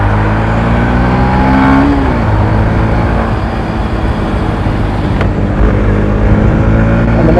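A Yamaha FZ-X motorcycle engine pulls hard in second gear, its loud droning tone climbing and then dipping briefly before rising again, close and continuous.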